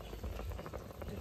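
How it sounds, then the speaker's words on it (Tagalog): Fish soup bubbling at a steady boil in a pot, a continuous dense bubbling and simmering hiss heard up close without pauses. "Katapos po ng ilang minuto ng pagpapakulo po natin sa ating isda"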